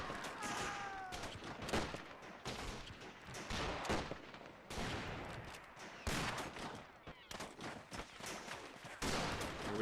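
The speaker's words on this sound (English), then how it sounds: "Get another light machine gun team. It's all we can afford right now, and probably the right call. Because we can perch it up here and start firing down at them." Sustained bursts of light machine gun fire crackle throughout a strategy game battle set in the 1919 German revolution, dense overlapping volleys with artillery-like thumps, loud and continuous with no talking.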